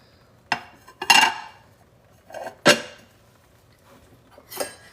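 Dishes and cutlery clinking during hand dishwashing, a handful of separate close clanks and rattles with quiet gaps between them.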